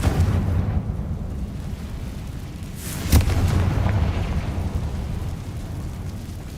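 A Confringo spell detonates in Hogwarts Legacy, giving a single sharp blast followed by a rumbling roar that stays loud under a steady background hum.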